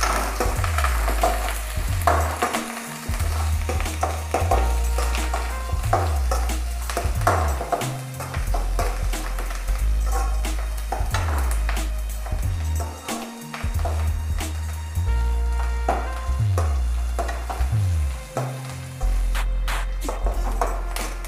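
Oil sizzles and crackles steadily as spices, chopped onion and curry leaves fry in a pan, with stirring clinks and scrapes throughout, close and fairly loud.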